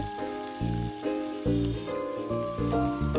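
Chopped chilies and cubed tomato hitting hot oil in a pan, bursting into a loud crackling sizzle with several sharp surges as pieces are stirred, continuous frying hiss throughout.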